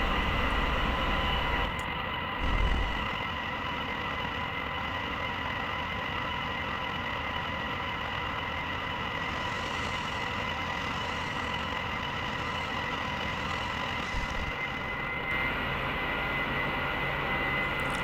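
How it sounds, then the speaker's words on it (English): Steady, loud roar of an aircraft engine on reverse thrust in a flight simulator game, a constant droning hum with a whining tone that holds unchanged for a long stretch, with no talking. "you turn on the reverse thrusters, and then press 2 to activate the reverse thrust"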